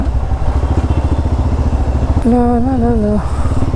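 A motorcycle engine runs up close and loud with a steady, rapid chugging pulse, and a rising whine cuts in near the end.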